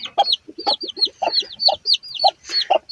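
Chickens and chicks clucking close by in quick, repeated bursts, a busy overlapping run of short clucks and chirpy calls with no voices.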